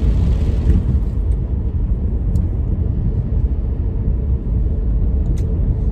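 A car drives through rain under an overcast sky, giving a steady, loud low rumble of road and engine noise that runs unbroken with no voices.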